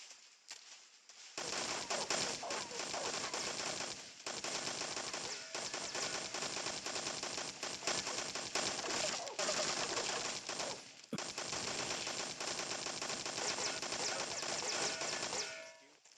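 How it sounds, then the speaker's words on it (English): Sustained automatic gunfire from a machine gun in Metal Gear Solid 3, loud and dense rattling bursts running almost continuously for about fourteen seconds with only brief breaks. "HQ, someone's firing a machine gun."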